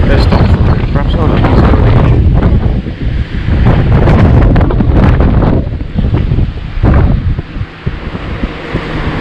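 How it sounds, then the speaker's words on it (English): Loud, continuous wind buffeting the microphone outdoors in Welsh forest where a Valmet 931 8-wheel-drive harvester and a Ponsse forwarder are working, rumbling gusts swelling and dipping throughout with a voice partly heard under it. "sorry about the wind"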